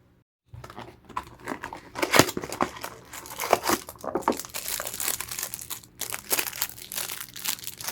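A package for a Bavin Oxford hard-shell mini travel storage bag being opened, close crinkling and crushing of plastic wrap with tearing bursts after a brief silent start, no talk.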